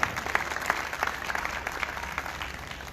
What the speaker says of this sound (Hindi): इनके लिए जोरदार तालियां भी बजाते हैं।